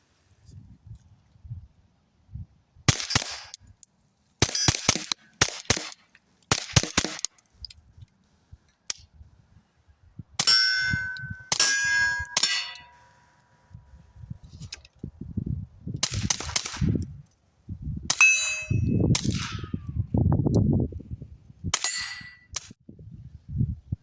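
Repeated gunshots from a Diligent Defense Road Hunter with sharp metallic clangs of rounds striking steel targets at a range, fired in irregular bursts and single shots, some close and loud, others more distant.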